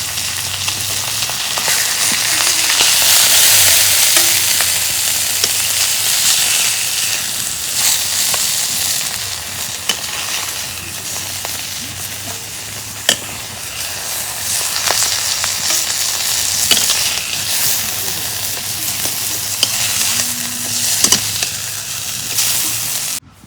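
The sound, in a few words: fish frying in oil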